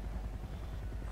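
A helicopter in Far Cry 4 approaches as a steady low, pulsing rotor drone, close and constant through the short moment, with no talking.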